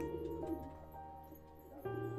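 Soft low cooing from Indian low-flying builder pigeons, a few murmuring calls close by over a faint background hum.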